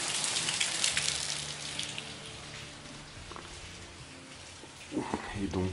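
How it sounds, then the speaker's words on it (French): Heavy rain falling on a tiled canal roof, a steady patter and hiss of drops with a few louder splashes near the end, a voice speaking intermittently over it. "il y a une bonne grosse pluie"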